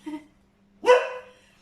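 One sharp, close dog bark rings out in a quiet room, preceded by a faint brief sound.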